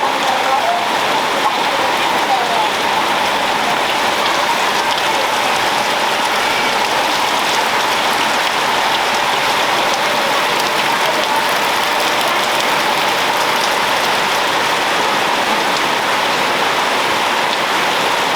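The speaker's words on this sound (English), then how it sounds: "Yes, we have lots of rain here." Heavy rain pours steadily onto a shed work site, a dense, even hiss that stays loud and unbroken throughout.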